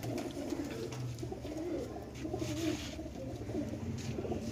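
Kept show pigeons coo softly and repeatedly at close range, low and muffled, against a quiet background.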